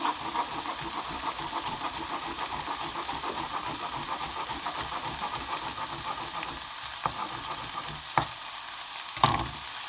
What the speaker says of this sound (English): All those vegetables in the pan all cooking away nicely,